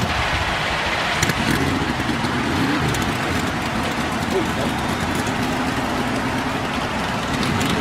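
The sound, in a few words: race car engines running in a racing video game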